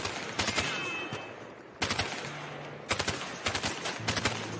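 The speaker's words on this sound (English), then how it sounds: "Let's shoot at them." Guns fire in the video game A Way Out as players shoot at empty houses, in several loud bursts of rapid shots separated by short pauses, with no talking.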